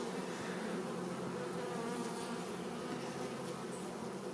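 A honeybee colony buzzes continuously during a hive inspection of a swarm established this year, a dense, steady hum of many bees close by, faint in level, without talking.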